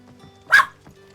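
A single short, sharp dog bark sounds in the middle of a quiet moment, fairly close and clear, with faint hum before and after.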